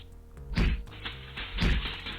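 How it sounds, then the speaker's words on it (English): Two heavy thumping blows land in the Space Quest 2 remake, each a dull low thud about a second apart, over a faint background tone. "two interstellar ruffians proceed to thump you unconscious"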